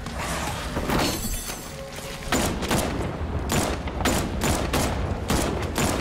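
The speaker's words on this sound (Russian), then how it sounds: "Да, это я стреляю." Rapid bursts of gunfire from Batman: Arkham Knight, with sharp repeated shots and bursts spread across the clip over a dense, continuous game soundscape.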